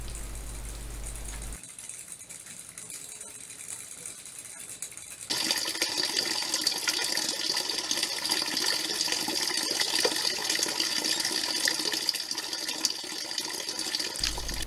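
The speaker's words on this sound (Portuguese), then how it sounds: "A bomba já está a funcionar" Water pump driven by a small windmill, running on a well with little water: a quiet rattling start, then a sudden steady rush of flowing, splashing water that continues loud and close, with no voices.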